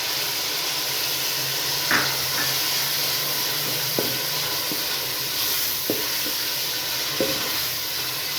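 Fenugreek seeds crackle in hot oil in a pan for Punjabi kadhi, with a steady bright hiss and a few soft taps of a spoon against the pan.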